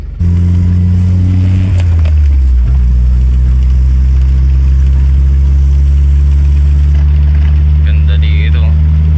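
A car engine idles nearby with a steady low hum whose pitch drops slightly early on, then holds even and loud, with some background activity over it.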